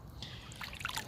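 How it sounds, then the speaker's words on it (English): Shallow water trickles and burbles over rocks on a West Country foreshore, a faint, steady babble with small bubbling splashes growing busier toward the end. "with the water running over it"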